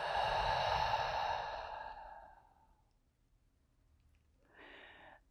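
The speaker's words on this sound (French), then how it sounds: "Expire par la bouche." A long, deep exhale through the mouth during a yoga breathing practice, a loud breathy rush that slowly fades over about two seconds, then a shorter, softer breath after a pause.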